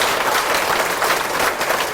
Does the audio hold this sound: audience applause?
yes